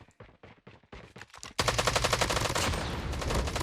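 Gunfire in the mobile shooter game Call of Duty Mobile: a handful of separate shots at first, then a sudden loud, continuous burst of rapid automatic fire that lasts to the end.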